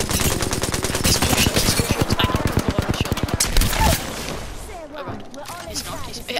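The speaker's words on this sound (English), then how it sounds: "I hear shots." Rapid automatic gunfire in the Apex Legends video game, dense loud bursts of shots in a fast steady rhythm for several seconds before fading, with a voice talking over it.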